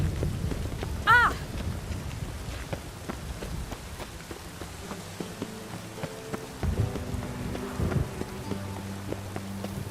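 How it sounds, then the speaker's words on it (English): Steady rain pattering in the video game The Witcher 3: Wild Hunt, set in Skellige, a soft continuous hiss with a brief louder splash near the start and low tonal game sounds toward the end. "Lots of fuss over lots of rain."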